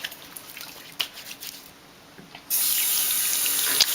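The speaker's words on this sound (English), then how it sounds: "wash your hands with an antibacterial, and you really want to get a good scrub" Warm tap water runs steadily into a sink while hands are scrubbed for makeup-brush cleaning, the flow swelling into a loud, continuous close gush in the second half.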